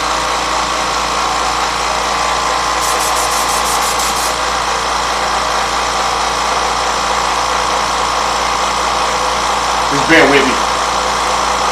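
Air compressor for airbrushing runs with a steady, loud mechanical hum throughout, someone speaking briefly over it.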